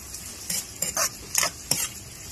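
Garlic goes into a pot for salmon head sinigang, making a few short stirring scrapes and light sizzling bursts, close and fairly quiet.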